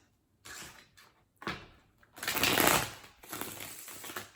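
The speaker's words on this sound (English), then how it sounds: "That was a good shuffle." Tarot cards shuffled by hand in a handful of quick bursts, a longer riffle in the middle, close and fairly quiet with no talk.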